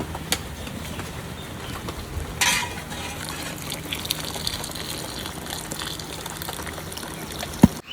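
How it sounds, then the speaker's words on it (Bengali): Milk is poured into half-cooked rice in a pot, a soft continuous liquid gush with a splash near the start and a small knock near the end, fairly close and without speech. "আমার ভাতটা হাফটা ফুটে গেছে এবার পুরো দুধটা আমি দিয়ে দেবো"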